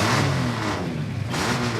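A 1935 Chevrolet coupe hot rod with a GMC six-cylinder engine runs with a loud, rough throaty rumble, revving up and settling back over a couple of seconds.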